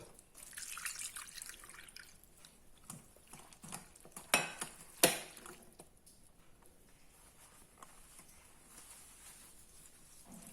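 Rasgulla chhena is rinsed under running water in a kitchen sink, with a steady close trickle and splash from the tap and a few sharper clinks of utensils near the middle.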